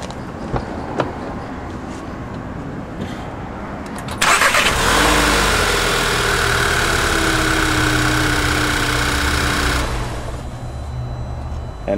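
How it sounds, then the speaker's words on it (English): A car engine cranks and fires up using a Duracell Powerpack 600 jump starter, catching abruptly after a few quiet clicks, revving briefly, then settling into a steady loud idle before dropping in level near the end. "Now we're going to be starting the car."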